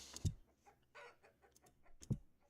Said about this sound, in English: Chickens, stop.